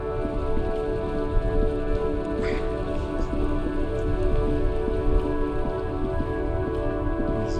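Steady, dense rain hisses in the video game Disco Elysium, a constant wash over a low, droning musical backdrop that continues throughout without pause.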